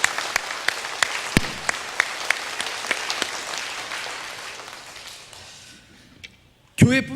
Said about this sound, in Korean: 감사와 영광의 박수 한번